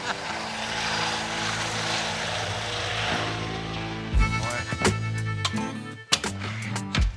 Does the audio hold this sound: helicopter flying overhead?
yes